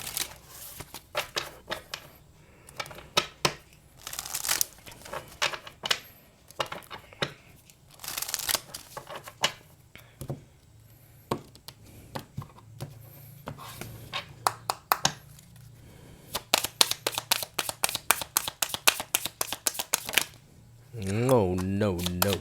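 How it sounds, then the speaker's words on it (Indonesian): Oracle cards are shuffled by hand in repeated bursts of quick riffling and soft slaps, with pauses between and a person talking quietly in places. "kita akan segera ambil kartu oracle-nya dulu sebagai pilot untuk readingan ini"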